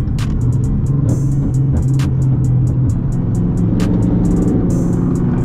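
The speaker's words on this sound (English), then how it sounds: "That boy got a loud ass truck." Loud truck in highway traffic booms with a deep, heavy engine rumble, steady and close, overlaid by rapid clicking ticks from the recording car's surroundings; no speech.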